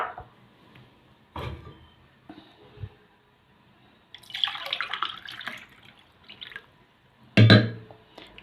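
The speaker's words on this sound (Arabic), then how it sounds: "هنزل بقى هنا ايه بكوبايتين لبن، ده واحد" Two glasses of milk poured into a pot for a chilled vermicelli dessert come in separate splashing bursts, near and moderately loud, with quieter handling sounds and pauses between pours and no talking.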